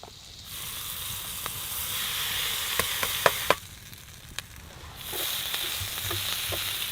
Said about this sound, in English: I'm just gonna cut it up and fry it in the butter and onions and call it.